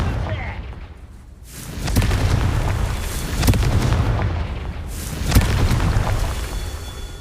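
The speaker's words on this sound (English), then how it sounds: "Confringo!" Booming fire-spell blasts from the Hogwarts Legacy video game, a couple of loud explosive bursts with broad rumble amid continuous in-game action and background noise.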